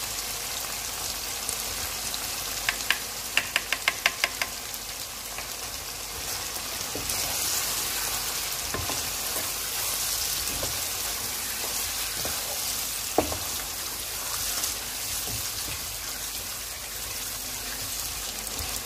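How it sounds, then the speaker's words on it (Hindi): Chicken pieces fry in a karahi for white chicken karahi, giving a steady sizzle throughout. A short burst of clicking stirring comes early and there is one sharp clink later, with no voices. "अब इसको हम थोड़ी देर तक भूनेंगे। इसको मैंने तकरीबन 4 मिनट तक भूनना है।"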